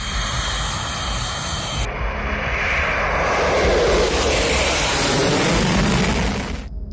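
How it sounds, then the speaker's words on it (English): Su-24 jet aircraft engine roaring overhead, a loud, close, sustained broadband rush that swells as the jet passes, with the roar rising and shifting in pitch before cutting off abruptly at the end. "Ukrainian deploys Su-24 jets to intercept Russian fighter jets over east of Kyiv."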